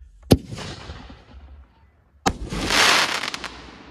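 Two loud aerial firework shell bursts from an American Badass canister by Big Fireworks, a red plum and crackle ring, each a sharp near boom, the second followed by a dense hissing crackle that fades out.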